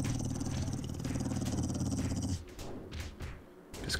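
A dog growls in the survival video game 7 Days to Die, a sustained low, rumbling snarl at moderate volume that cuts off partway, followed by softer scuffing game sounds.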